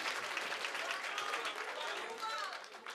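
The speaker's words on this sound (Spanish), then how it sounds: "Aplauso a Venezuela, aplauso a Venezuela" A concert audience claps for Venezuelans in the crowd, a steady, moderately distant patter of many hands that holds evenly for a few seconds with faint cheering or voices mixed in, tapering slightly at the end.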